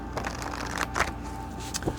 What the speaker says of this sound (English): Let's shuffle a little bit and see what messages come out.